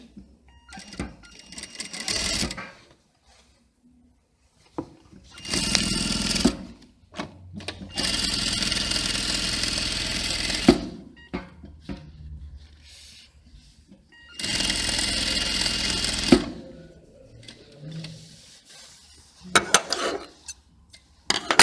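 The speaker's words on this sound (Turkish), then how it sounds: "Sonra makinede 1 milimden her birine makine çekeceğim." A sewing machine stitches lines one millimetre apart along folded fabric, running in several loud steady bursts of whirring motor hum and needle clatter, with quiet pauses between the runs.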